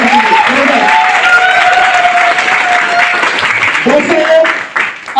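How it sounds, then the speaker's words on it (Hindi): Audience applause at a business seminar for RCM: loud, continuous crowd clapping throughout, with a voice speaking over it. "एक बार ताली बजा के"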